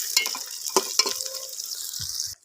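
Onions browning in oil for chicken karahi crackle and sizzle up close, with sharp spatters and bursts of stirring before the sound cuts off abruptly; no one speaks.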